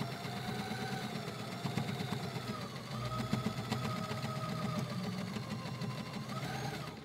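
A sturdy sewing machine stitching a tea towel edged with guipure lace, running at a steady, even whir with a fast mechanical needle rhythm that holds for several seconds without pause.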